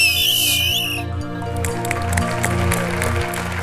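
A crowd of people lets out loud, shrill celebratory whistles, with warbling high tones at first over rhythmic music and clapping, then continuing cheering noise as the whistles fade.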